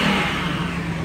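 A car at an auto auction revs steadily close by, its engine drone holding a constant loud pitch through the short stretch with no voices.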